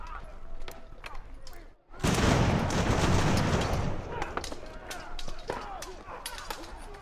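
Musket volley fire in the Ultimate General: American Revolution strategy game, a big crackling roar of massed shots after a brief dip, with scattered sharp reports continuing and voices talking over it.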